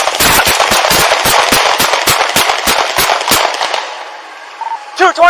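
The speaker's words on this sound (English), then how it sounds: "shots fired, shots fired" A rapid volley of police gunshots at a 2018 Memphis officer-involved shooting, about fifteen loud close cracks fired in quick succession over several seconds, then falling quiet before a shouting voice returns.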